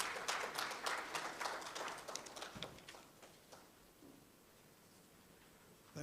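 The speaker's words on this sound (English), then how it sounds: "With a big round of applause, please help me welcome Dr." A conference audience at a West African NCD launch event applauds to welcome a speaker, a dense patter of hand claps loud at first, then thinning and fading away toward the end with no talking.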